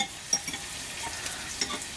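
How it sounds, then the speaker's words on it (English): Onions softening in oil in a pan for paella, a quiet close sizzle with a couple of light scraping stirs. "we can see that they're cooking in there. The oil's kind of soaking them up."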